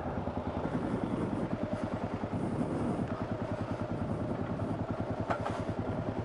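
A motorcycle engine runs continuously and close by on a back-road ride, a rapid, even, pulsing rumble that holds at a steady level throughout.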